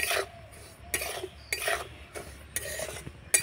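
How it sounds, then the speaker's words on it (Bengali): Semolina being dry-roasted in a pan and stirred, giving soft repeated scraping and rasping strokes against the metal at an irregular rhythm, close and moderately quiet with no talking. "তো প্রথমে আমি শুকনো খোলায় ভেজে নেব সুজিটাকে নাড়াচাড়া করে।"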